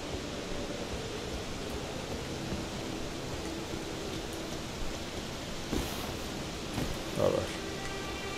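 Rain in the fantasy video game Elden Ring, a steady broadband hiss of falling rain that fills the scene evenly, with a few faint brief knocks and rustles over it and no talking.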